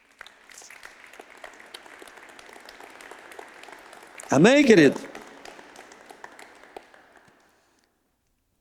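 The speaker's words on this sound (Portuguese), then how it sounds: "Dá uma salva de palmas para Jesus." A church congregation at a Sunday Father's Day service gives a round of applause for Jesus, a soft, distant wash of clapping that runs steadily and fades out near the end, broken by a loud spoken voice in the middle.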